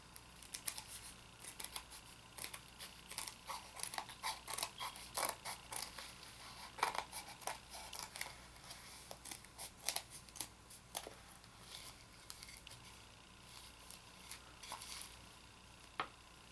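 Scissors cut around the edge of a round paper Earth craft, a quiet run of crisp snips and rustles with short pauses between cuts.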